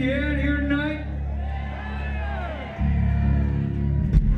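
A rock concert crowd bellows and whoops back at the stage, a loud mass of shouting voices with a deep sustained rumble that swells sharply near the end.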